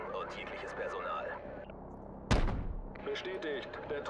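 A single sharp, booming gunshot rings out in Call of Duty 4: Modern Warfare Remastered, cutting through steady in-game ambience and radio chatter.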